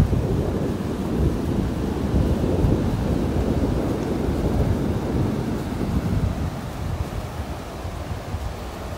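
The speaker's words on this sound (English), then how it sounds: "can you hear that wind?" Wind gusts roar across a Florida beach in North Naples, a constant low buffeting rumble against the microphone with surf blended underneath, loud and steady throughout with no talk.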